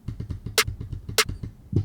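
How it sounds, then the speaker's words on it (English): A classic trap chop snare sample cracks twice in a bass house production, each hit bright and snappy over a quick, soft, chattering low-end pattern, ending with a deeper thud. "Like a classic trap chop snare,"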